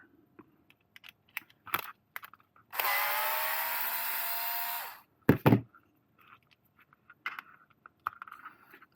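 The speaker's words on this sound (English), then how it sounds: "To take off this little nut right here, we're going to use a T20 Torx." A T20 Torx driver is used on a small nut during a BMW e92 paddle shifter repair, with a steady two-second whirring run of a powered driver between scattered small clicks and taps of handling parts.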